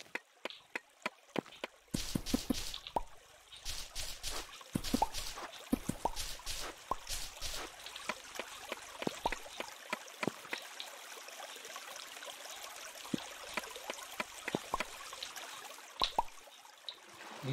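Flowing water in a Minecraft-style video game, a steady rushing trickle joined by many quick clicks and taps, fairly quiet throughout with no speech.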